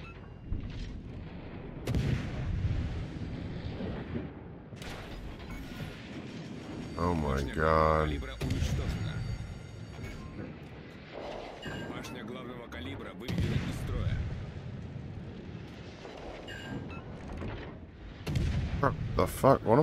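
Booming naval gunfire and explosions from the World of Warships Legends video game, with repeated heavy blasts spread across a stretch of continuous game audio while someone talks over much of it.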